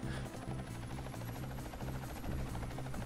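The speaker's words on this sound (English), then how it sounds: "Helicopter all fueled up and ready to go." Helicopter in the Ty the Tasmanian Tiger 2 video game, a continuous loud rotor chop with a regular pulsing beat and a buzzing engine whine underneath, steady throughout.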